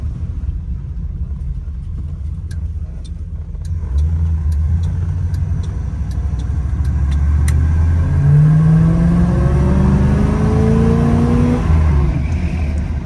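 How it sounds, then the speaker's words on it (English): A 1966 Ford Thunderbird with its 390 V8 pulls hard at full throttle, a deep engine rumble rising steadily in pitch and loudness as the car accelerates, with faint ticking noises near the start. "you mat it and that 390 wakes right up, and this car gets up and boogies pretty good"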